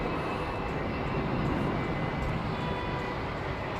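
A Royal Air Maroc Dreamliner at London Heathrow gives a steady, broad engine roar, distant and unbroken throughout, with no voices.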